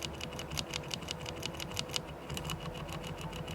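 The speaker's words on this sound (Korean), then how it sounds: "내가 산 키보드에서 이상한 소리가?" Rapid, steady typing on a mechanical computer keyboard with an odd rattle, likely from the spacebar stabilizer: close, crisp clicks in quick succession that run throughout.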